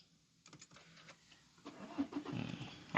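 A faint Toyota Fortuner 2.8 V 4x4 diesel engine cranks and catches after a push-button start, rising into a low idling rumble that grows louder toward the end.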